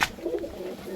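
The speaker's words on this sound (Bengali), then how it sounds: "তো এই ব্যাগের মধ্যেই আছে, পায়রা একে একে বার করছে" Fancy pigeons bought at a pigeon market coo softly from inside a carrying bag, a low rounded warble repeating through a brief moment, close by and unaccompanied by talk.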